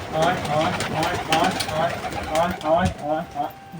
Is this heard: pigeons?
yes